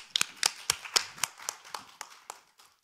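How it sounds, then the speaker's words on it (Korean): Scattered hand claps from a small audience at a medical workshop welcoming a speaker, a dozen or so distinct sharp claps at uneven intervals, fairly close, thinning out toward the end. "박수로 환영할까요?"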